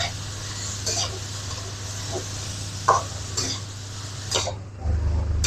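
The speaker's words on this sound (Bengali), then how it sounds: "এখন গাজরটাকে ঘিয়ে ভালো করে ভেজে নেব।" Grated carrot fries in ghee for carrot halwa, a low steady sizzle broken by repeated scraping strokes of a spatula against the pan, close and fairly quiet.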